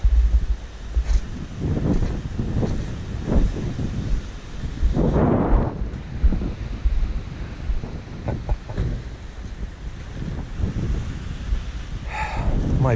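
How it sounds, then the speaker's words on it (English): Strong gusting wind after a nor'easter buffeting the microphone in rumbling waves throughout, with faint voices briefly audible underneath. "Still pretty windy"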